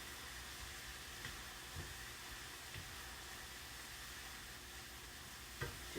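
Onions fry in a pan, a quiet steady sizzle with a few soft scrapes as they are stirred now and then.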